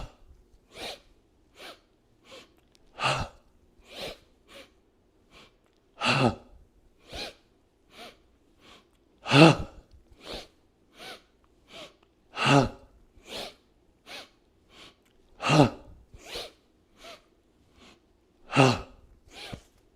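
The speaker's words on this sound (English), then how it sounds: "that's called the breath of joy" Breath of joy, a qigong breathing exercise, heard as a series of sharp inhales and forceful exhales in repeating cycles, with the strongest exhales every few seconds. The breathing is close and stands alone.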